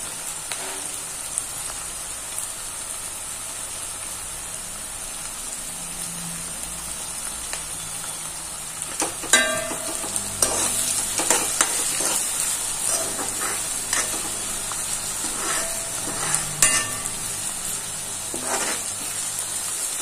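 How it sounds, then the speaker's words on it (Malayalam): Carrots sautéing in a pan for carrot thoran, a steady close sizzle throughout, with occasional sharper clicks and stirring scrapes in the second half and no talk. "നന്നായി വഴറ്റും."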